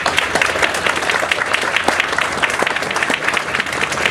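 Audience applause at the rededication ceremony of the Murray Morgan Bridge, for transportation secretary Paul Hammond: dense, steady clapping from a crowd, fairly loud and continuous throughout, with no speech over it.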